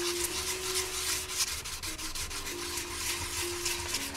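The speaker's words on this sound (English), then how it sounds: "I want to take a test spot just to make sure this is totally dry and ready to sand" Sandpaper on a hard block rubbing over a dry test spot on a restored Honda part, a continuous close, raspy scrubbing with a rhythmic back-and-forth stroke and no voices.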